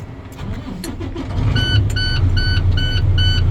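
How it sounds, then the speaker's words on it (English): A truck's engine cranks and catches during a Massachusetts CDL skills test, settling into a steady, close rumble while a rapid electronic warning chime beeps in short repeated bursts. "I'm gonna safe start my vehicle."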